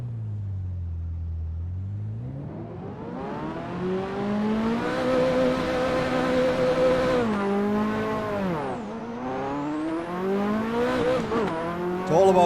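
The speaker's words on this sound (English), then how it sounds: "Finally, the Ferrari F40." Ferrari F40 supercar at a drag strip, its engine climbing through the revs in loud, sustained acceleration, pitch sweeping upward, dipping briefly at each gear change, then rising again, heard close from inside the car.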